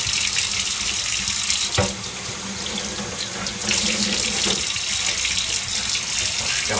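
A tap runs steadily into a sink while a steel blade is washed down with soap, a loud, close, continuous water rush with brief splashy changes.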